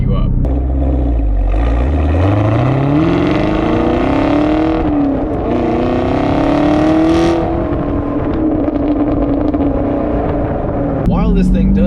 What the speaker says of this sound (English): And you get that glorious V8 soundtrack to back you up.